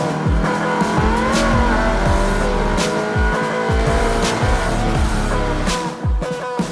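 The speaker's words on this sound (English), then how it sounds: "Pack is unleashed and the Brit Car Trophy race gets underway." A pack of race cars roars off together at the start of a Brit Car Trophy race, engines screaming and shifting up through gears, loud and close with layered revving.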